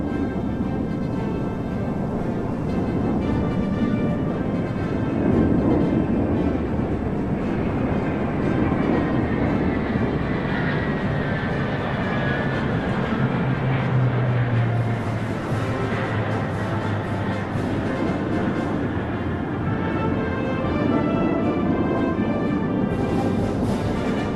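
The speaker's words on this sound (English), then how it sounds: "The Y-20 is a large-sized transport plane" A Y-20 large transport plane flies over a Chinese military parade, producing a loud, continuous roaring rumble that fills the whole stretch without easing. No voices.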